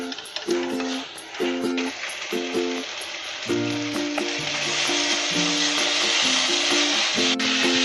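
Tomatoes and ginger garlic paste sizzle steadily in a hot pan, with a loud, close frying hiss that swells over time. Brief tonal beeps or music play in the background.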